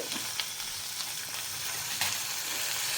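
Curry leaves fry in hot oil with a continuous, close sizzle and crackle, a few sharper pops rising above the steady hiss.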